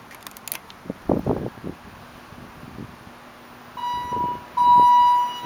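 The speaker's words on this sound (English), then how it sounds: "Let's ring the bell." Alarm bell in a Thyssenkrupp hydraulic parking elevator at Village at Fairview, starting after several knocks and handling clatters as a ringing electronic tone that breaks off briefly, then returns louder and sustained.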